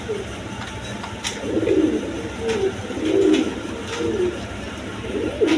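Beauty pigeons in a pair, kept with eggs and chicks, coo in repeated soft rolling calls, several overlapping phrases close by over a steady background hum.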